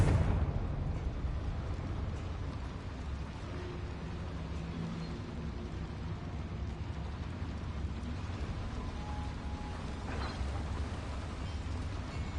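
A Confringo explosion spell in Hogwarts Legacy opens with a sharp blast and then a long, steady, low rumbling roar that keeps going at a moderate level with no talking.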